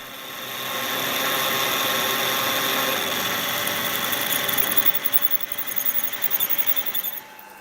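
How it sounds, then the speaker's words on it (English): A drill bores screw holes into steel vice jaws during a vice restoration, a motor that spins up and holds a steady whine with a high squeal, turning rougher and more uneven toward the end. "Now I'm drilling the holes where the screws will sit."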